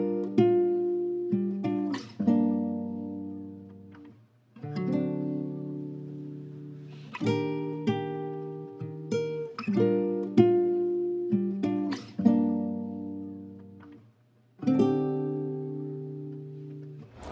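Guitar chords for an R&B sample, miked in a room rather than plugged in, played as a slow melody of ringing strummed chords that swell and decay in phrases, with faint string noise between them and no voices.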